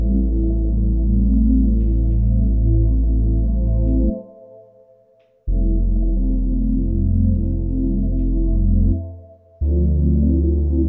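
A warm, muffled music sample with the highs cut away and a soft reverb tail, playing in two long phrases separated by brief drops to near silence.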